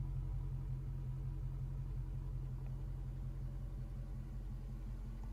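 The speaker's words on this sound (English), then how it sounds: "Car sounds really good too." A freshly finished Dodge Charger idling, its engine giving a deep, steady, rumbling burble that stays even and moderately quiet throughout, with no voices.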